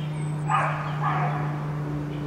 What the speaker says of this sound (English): There's a new dog in town. It's not really yippy.